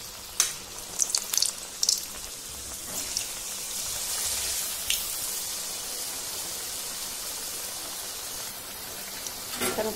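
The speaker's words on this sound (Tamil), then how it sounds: "இதையும் எண்ணெயில போட்டு எடுத்துலாம்." Mysore bonda batter dropped into hot oil, a few sharp splashes at the start settling into a continuous, even hiss of deep frying, close and moderately loud.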